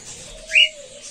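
Pet cockatiels in a home aviary in a small garden, giving a brief high chirp over a thin steady whistle-like call against faint background noise, with no talking.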